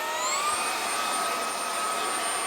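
A eufy E20 robot vacuum runs over hair on a floor with a loud, steady motor whine and high tonal hum, which stays constant throughout.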